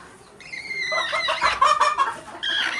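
Two brooding native hens sitting on eggs in a confined rooftop coop cluck close by in a run of loud, uneven calls.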